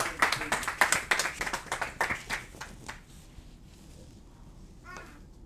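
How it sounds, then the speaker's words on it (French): Audience applause at a rabbinical ordination diploma ceremony in Kfar Chabad, loud rhythmic clapping for about three seconds that quickly fades out, leaving quiet room noise and a brief faint sound near the end. "Michael David, Rav Israël Shlomo Markowski, beaucoup d'applaudissements."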